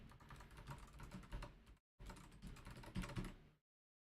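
Typing on a computer keyboard in quick, uneven bursts of close clicking keystrokes, broken by a short pause and then stopping, with no talk.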